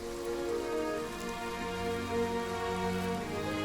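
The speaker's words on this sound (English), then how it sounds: "It's been raining for 7 days. It hasn't let up, and is even getting heavier." Heavy, persistent rain falling on surfaces in a dense, even hiss with scattered drops, steady and close throughout with no speech.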